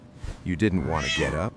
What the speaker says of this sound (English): When your cat looks up at you and meows